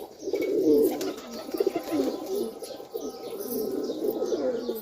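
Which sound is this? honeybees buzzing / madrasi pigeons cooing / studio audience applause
madrasi pigeons cooing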